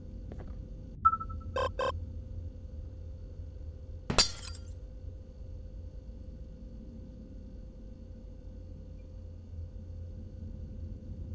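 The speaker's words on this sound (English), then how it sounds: "I broke the glass" Glass shatters in the horror game Garten of BanBan: a few small clinking tones, then one sharp, bright breaking crash around the middle, followed by a quiet low ambient hum with no voices.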